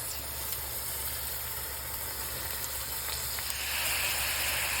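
Pork, ground beef and diced pancetta brown in a pan with a steady, close sizzle over a constant low hum, slightly louder near the end. There is no talking.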